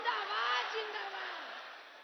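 A large crowd at a Prime Minister's public election rally in Nawada, Bihar roars and cheers in welcome, a broad sustained wash of voices that slowly tapers off.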